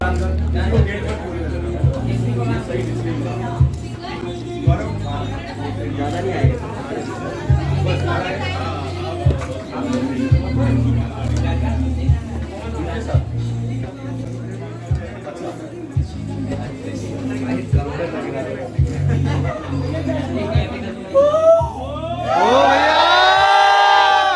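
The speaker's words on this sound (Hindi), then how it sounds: "और यहाँ पे कितनी ज़्यादा भीड़ है क्योंकि अभी भैया प्रफुल्ल भैया आ गए हैं।" Large crowd packed in at MBA Chai Wala in Kakadeo, Kanpur, a dense babble of chatter and shouting with bursts of cheering, loud and continuous, people talking nearby throughout and a rising whistle or siren-like cry at the end.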